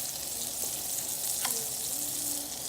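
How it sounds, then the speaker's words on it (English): Vegetables and tofu sautéing in an oiled pan for a vegan breakfast, an even hiss of frying with a light stirring tap, moderately quiet and free of talk. "I'm gonna put a little oil in the pan, saute the vegetables, add the tofu, scramble it up."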